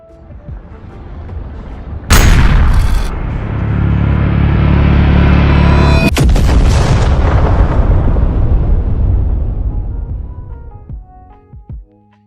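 A huge shockwave blast in the animated indie series Silver Lining erupts in a sudden, very loud boom, with a second sharp crack seconds later. A long roaring rumble follows and slowly fades away.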